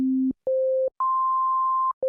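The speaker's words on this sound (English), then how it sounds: "I'm gonna start with the sine wave and go to the right from there" Native Instruments Super 8 synthesizer playing a pure sine wave oscillator, clean steady tones in a short sequence of separate notes stepping up in pitch with brief gaps between them.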